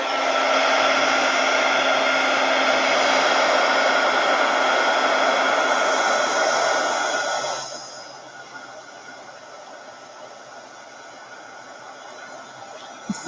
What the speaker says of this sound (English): I'm going to use my, my heat gun to dry those little spots so I can flip them over.